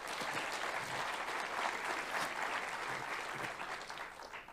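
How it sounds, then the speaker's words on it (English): Symposium audience clapping in a plenary session, a sustained, even patter of many hands lasting several seconds at moderate distance and tapering slightly at the end. "Give them an applause, please."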